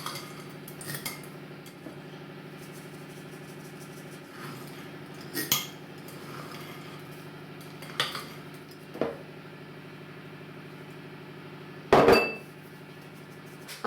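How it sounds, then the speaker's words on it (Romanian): A whisk folds sifted flour into whipped egg batter for a Dobos cake, in a bowl with a soft steady hum behind it. Scattered metallic clinks and taps against the bowl stand out, including a sharp louder clatter near the end. "Punem puțin câte puțin și amestecăm cu mișcări largi de jos în sus, să nu pierdem aerul din ouă."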